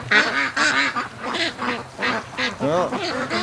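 Free-range ducks quack repeatedly up close, a dense stream of rasping calls in uneven pulses, with several birds overlapping.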